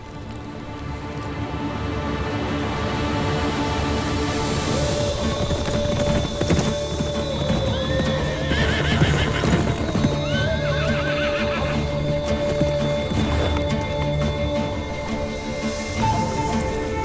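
Horses clip-clop steadily through a Turkish historical drama setting, with repeated neighs and whinnies rising over continuous hoofbeats and faint rain-like patter, loud and close throughout.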